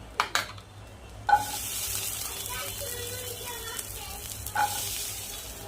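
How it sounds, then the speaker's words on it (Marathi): Four or five green chillies and garlic roast in a pan, a close, steady sizzle running throughout after a few sharp clatters at the start, with a brief louder burst of frying near the end. "त्याच पॅनमध्ये आपण 4-5 हिरव्या मिरच्या भाजून घेणार आहोत."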